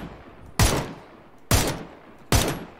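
Three loud single gunshots from PUBG, a duo battle-royale shooter, spaced roughly a second apart, each with a sharp crack and a short decaying tail, with no voices.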